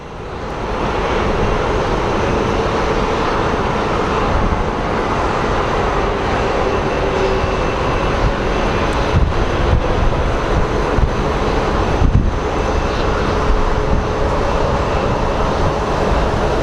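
A United airliner arriving on the nearer runway at Sky Harbor airport makes a steady, loud, broadband roar that holds for the whole stretch with little change, and no one speaks.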